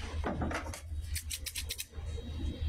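Scissors snip in a quick series of crisp cuts, close and fairly clear over a low background hum.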